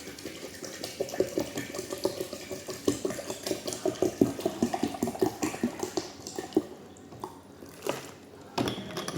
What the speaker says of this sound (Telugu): ఇప్పుడు దీంట్లో వాటర్ పోసుకుంటాం